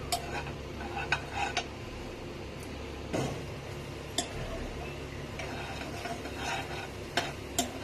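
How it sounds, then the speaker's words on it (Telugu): Prawns frying in a pan, with soft continuous sizzling close by under occasional sharp clicks and taps of a utensil against the metal. "ప్రాన్స్ కూడా బాగా గోల్డెన్ షేడ్ వచ్చే వరకు ఫ్రై చేసుకోవాలి"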